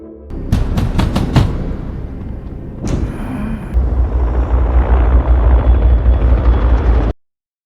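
A helicopter sound effect: a few sharp impacts give way to a heavy, close rotor roar with deep rumbling thuds that build and then cut off abruptly.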